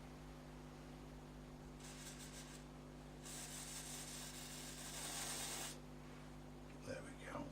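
Contact cleaner hisses from an aerosol can onto the tuner selector of a Perdio PR 75 radio in two bursts, a short spray and then a longer one, faint and close in a quiet room.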